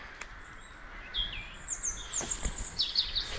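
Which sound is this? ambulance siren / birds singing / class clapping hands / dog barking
birds singing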